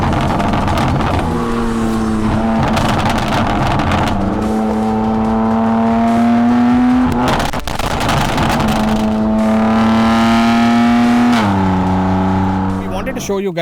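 A BMW M2 Competition with an S55 engine and Stage 2 tune pulls hard through two long full-throttle runs, the loud engine note climbing steadily before a sharp gear change, with a voice talking over it.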